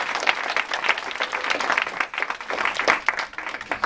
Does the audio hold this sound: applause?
yes